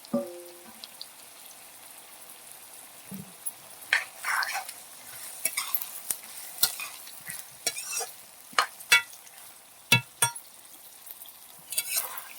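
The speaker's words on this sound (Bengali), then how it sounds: "পেঁয়াজের বেরেস্তাটাকে আমি লাল লাল করে ভেজে নেব" Onions for biryani beresta frying in hot oil until deep red, heard as a soft sizzle broken by scattered stirring scrapes and clinks, close by and without speech.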